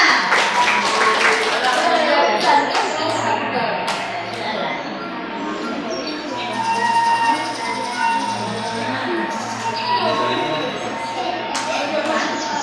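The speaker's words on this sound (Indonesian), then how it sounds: "Ayo tepuk tangan semuanya." A group of kindergarten children clap their hands together in a steady burst of applause, blended with voices and classroom noise throughout.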